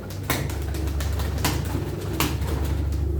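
Pigeons of a Turkish purebred flying breed coo in the background over steady low outdoor rumble, with a few sharp bursts of noise such as wing flaps breaking through.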